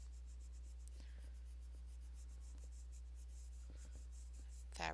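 Soucolor colored pencil strokes on paper scratch and rub faintly in short, irregular passes beneath a low steady hum, quiet and close, with no talking.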